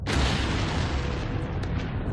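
An atomic bomb explosion effect in a documentary, a loud sustained roaring blast with deep rumble filling the whole moment and slowly tapering.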